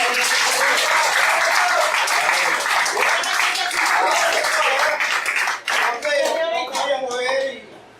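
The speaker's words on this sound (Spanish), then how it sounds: "Un fuerte aplauso al Señor." A church congregation claps loudly and steadily for about seven seconds, the dense applause tapering off near the end, with a voice and shouts mixed in over it.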